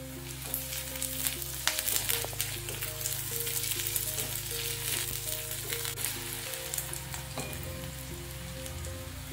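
Onion and slit green chillies frying in a pan for dal khichdi give a constant close sizzle and crackle, with a low steady hum running underneath.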